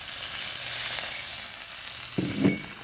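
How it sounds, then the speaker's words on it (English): About two teaspoons of garlic sizzling in a hot wok for a Hunan chicken stir fry, a steady close frying hiss with a couple of brief utensil clinks near the end. "first we're gonna put some garlic, about 2 teaspoons of garlic in it"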